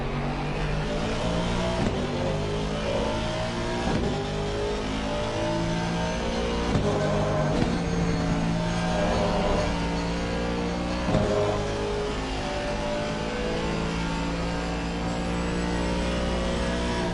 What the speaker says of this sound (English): Great sound of the Aston Martin there.